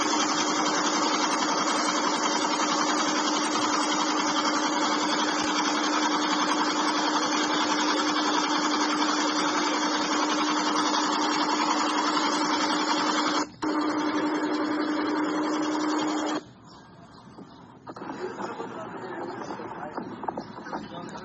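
A boat engine idles at a ferry ghat in the Sundarbans with a continuous mid-pitched mechanical drone that drops out briefly, then fades to a lower, rougher hum near the end.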